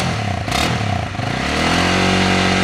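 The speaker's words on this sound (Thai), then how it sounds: "มาฟังเสียงท่อกันหน่อยมา สตาร์ติดง่ายครับนี่" A 2021 Honda Rebel 300 motorcycle engine idles with a loud throaty putter, then revs up and holds a higher, steady drone.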